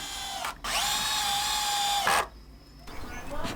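Cordless power drill driving screws into wood for an outdoor pull-up bar, close and loud: a short whir, then a sustained run of about one and a half seconds, then a rougher slowing burst at the end.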